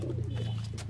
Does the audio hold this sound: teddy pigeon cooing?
yes